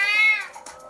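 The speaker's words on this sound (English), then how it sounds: "I hear you, cat." A house cat lets out one loud, close, drawn-out meow that fades into quiet room noise.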